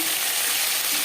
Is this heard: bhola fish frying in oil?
yes